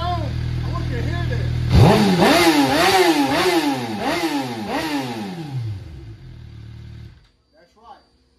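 A 2012 Suzuki GSX-R750 sport bike with an M4 aftermarket exhaust revs hard close by, about six sharp throttle blips rising and falling in quick rhythm before cutting off, with a brief faint sound afterward.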